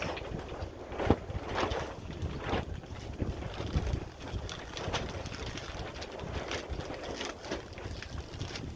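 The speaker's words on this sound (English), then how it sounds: "Oh, the wind never stops." Steady outdoor wind buffeting the microphone while onions are being potted up, a continuous rumbling roar with gusty swells and bumps, close and moderately loud, with no talking.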